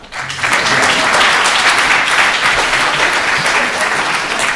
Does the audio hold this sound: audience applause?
yes